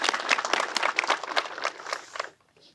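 Short burst of applause at a public safety recognition and memorial service, a modest crowd clapping for about two seconds before it dies away.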